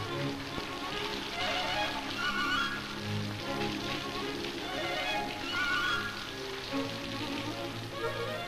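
Steady rain in a 1950s Soviet comedy film, a dense, even hiss of drops falling on surfaces that carries on without letup for several seconds.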